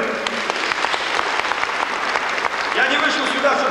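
An audience applauds during a public speech in 1999: dense, continuous clapping from a large crowd, loud and sustained throughout, with a voice faintly audible underneath.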